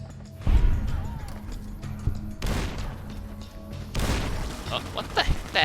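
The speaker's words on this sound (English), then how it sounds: "What the heck is exploding?" Explosions and crashing bursts from Fallout: New Vegas combat boom loudly at several points, with gunfire-like cracks in between and a voice talking over the mix.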